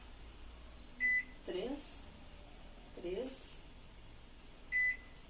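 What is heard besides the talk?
microwave oven running while heating pizza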